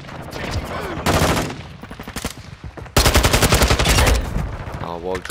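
Automatic gunfire in Call of Duty: Modern Warfare II, played on PS5, with two loud sustained bursts of rapid shots and shorter rattles between them, close and dominant with no talk over it.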